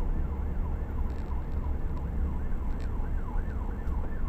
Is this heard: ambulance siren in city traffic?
yes